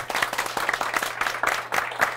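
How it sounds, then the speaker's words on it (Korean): Small audience at a book talk event claps for the two MCs, a modest, uneven patter of individual hand claps at close range. "오늘 수고하신 그 두 분 MC분들 박수 부탁드리겠습니다"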